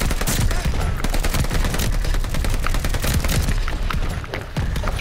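Rapid, loud gunfire blasts continuously at a flamethrower enemy in Call of Duty: Vanguard, with dense bursts and booming impacts packed closely together.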